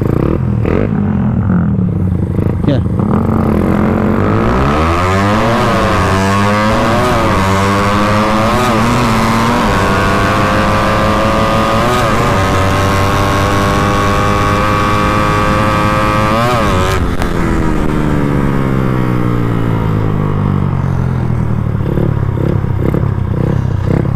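A Suzuki Raider 150 motorcycle engine with a fault idles, then revs up repeatedly in rising and falling bursts before holding a high, sustained whine and settling back down.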